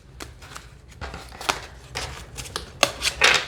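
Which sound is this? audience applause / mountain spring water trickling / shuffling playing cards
shuffling playing cards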